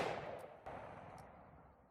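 An AR-15 rifle with a super safety firing 5.56 rounds in semi-auto from a 40-round magazine, heard as a few sharp reports with a booming tail that fades slowly, loud and close, with no talk.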